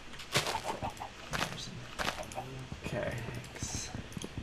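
Chickens in Minecraft cluck in short, repeated bursts, sitting close and clear among other game sounds, while a person talks over them.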